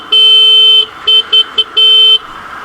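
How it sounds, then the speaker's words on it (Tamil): Horn of a 2020 Suzuki Intruder 150 cruiser motorcycle, sounded loud and close as a long toot, three short quick beeps, then another long toot, in quiet surroundings. "இதுதான் ஹாரனு."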